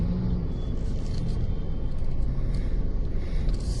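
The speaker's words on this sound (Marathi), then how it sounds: "बघू शकता ही माणगावची ट्रॅफिक" Road traffic in Mangaon, a steady close rumble of passing cars and engines with a continuous low roar throughout and no clear pauses.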